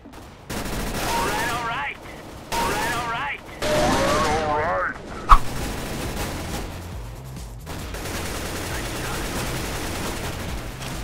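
Bursts of automatic rifle fire in CS:GO, several sustained volleys separated by short pauses, loud and close, with a sharp single shot in the middle, then a quieter mix of game sounds with players talking underneath.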